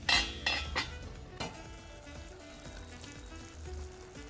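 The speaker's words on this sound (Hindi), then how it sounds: "अब हम इसको कवर करके 15 से 20 मिनट लो मीडियम फ्लेम पे पका लेंगे" Potatoes and spring onions cooking in a covered pan over a low-medium flame: a few clinks of a lid or utensil at the start, then a soft, steady sizzle and simmer.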